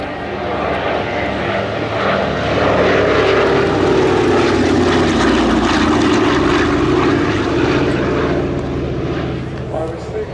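A Douglas Dakota III, KP220, flies past at the Headcorn Battle of Britain Airshow with a steady, loud piston-propeller drone. The engine note swells toward the middle and eases off at the end, with voices faintly underneath.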